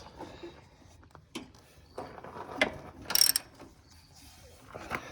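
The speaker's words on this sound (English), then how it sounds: "Got your wrench on there?" A wrench works the mounting bolts on a Cub Cadet engine, giving quiet scattered ratchet clicks and metallic ticks in short bursts, with a sharper clatter midway.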